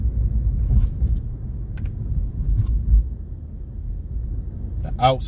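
Steady low road rumble inside a quiet hybrid car driving with the windows rolled up, a soft continuous hum filling the cabin with a brief higher sweep near the end.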